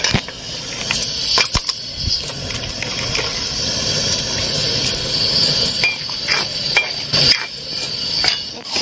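Lentils and dried red chillies dry-roasting in a pan for a bitter gourd fry, with a steady sizzle, scraping stirs and occasional metallic clinks of a spoon against the pan, close and continuous.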